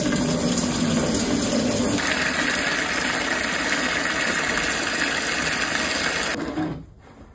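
Water gushing from an open hose with no hose gun fitted, a loud steady rushing flow with a constant mechanical whine that cuts off abruptly near the end.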